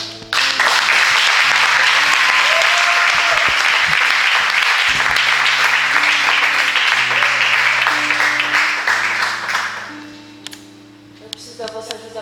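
Loud, sustained applause from a large crowd at a poetry event with some cheering, lasting about ten seconds before fading out to scattered claps.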